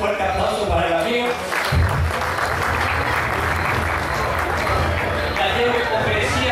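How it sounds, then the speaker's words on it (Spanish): Horse auction audience at a stud farm sale applauds a buyer with a steady, dense round of clapping, while a voice talks over the applause near the start. "un fuerte aplauso para el amigo."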